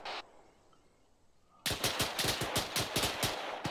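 Automatic gunfire in the video game ArmA 3 opens with a single shot, then after a brief lull comes a rapid, loud burst of evenly spaced rounds.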